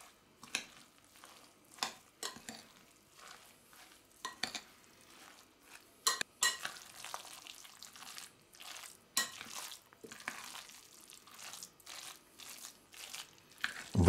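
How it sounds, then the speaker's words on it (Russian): A spoon stirring zucchini, cottage cheese and semolina batter in a bowl gives faint, intermittent scraping and soft clinking taps in an irregular rhythm, close by and otherwise quiet. "Перемешиваю."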